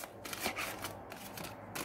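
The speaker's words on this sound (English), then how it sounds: "I'm just going to shuffle. Every day I'm shuffling there." A deck of cards is shuffled at close range, giving a brief run of soft riffling flutters and papery slaps over a steady background hiss, with no talk.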